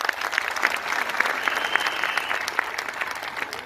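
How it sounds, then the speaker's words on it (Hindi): Audience applause for seated leaders at a gathering fills the room with dense, steady clapping from many hands, with a faint murmur from the crowd beneath it. "इन सब के लिए एक बार जोरदार ताली बनता है।"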